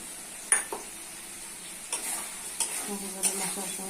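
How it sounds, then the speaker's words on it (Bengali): Spice paste for a chicken and potato curry fries in a pan while a spatula stirs and scrapes it, with several distinct clanks against the metal over a quiet, steady sizzle, close up and without talk. "মশলা ভালো করে কষে নিতে হবে"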